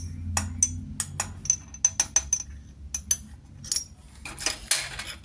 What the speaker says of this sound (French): je vais mélanger avec la petite cuillère